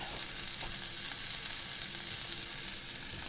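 Burger patties fry in a pan with a steady, close crackling sizzle, dense popping spatter running evenly throughout with no voices.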